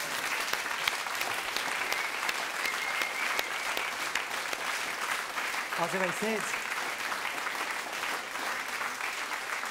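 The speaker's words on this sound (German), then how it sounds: "Und jetzt brauchen wir noch schnell einen Spezialapplaus" A crowd at a German-language cabaret or comedy show claps in a long, loud burst that carries on throughout, while someone speaks briefly over it.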